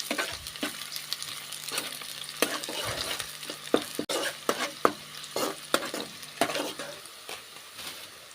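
Two medium sliced onions fry in a pan for a chicken gravy, a steady close sizzle broken by repeated scraping stirs of a spoon, with no voices.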